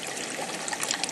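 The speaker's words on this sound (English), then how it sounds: "I like to go just over half a can of water" Water pours steadily into a pot on a Coleman Peak1 camping stove for ramen noodles, a close, continuous trickling splash lasting a moment.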